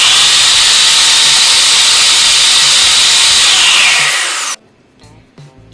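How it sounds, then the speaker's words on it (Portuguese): An electric power drill runs at high speed during a classroom science experiment, giving a loud, steady whirring hiss for several seconds before it abruptly shuts off, leaving brief faint clicks. "Eu peguei ele, adicionei aqui e liguei a furadeira."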